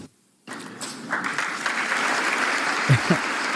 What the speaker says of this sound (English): Why are they clapping for English common law and Magna Carta?